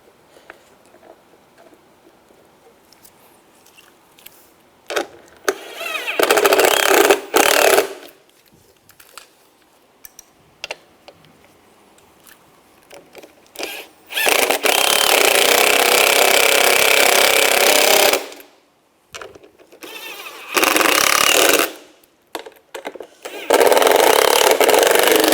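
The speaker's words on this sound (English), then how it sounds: "Get these screws started." Screws driven in while installing a front window regulator on a 2011-2025 Dodge Durango, with several loud, sustained bursts of a power driver whirring close by, separated by quiet gaps holding small clicks and handling noises.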